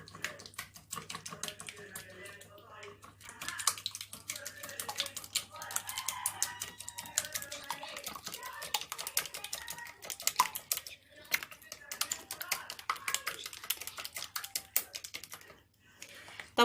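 Three eggs for an omelette, seasoned with salt, black pepper and a little cinnamon, are beaten together in a bowl, giving a long run of rapid, light clicking and tapping at close range.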